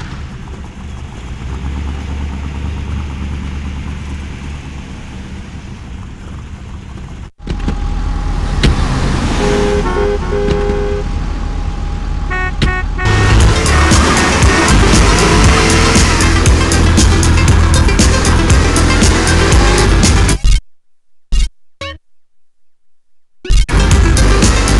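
A green Sabre muscle car in GTA San Andreas, its engine a loud, steady rumble that shifts and intensifies partway through, then drops out briefly near the end.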